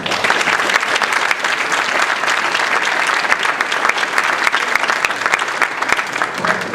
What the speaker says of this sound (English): Give our panel a great hand.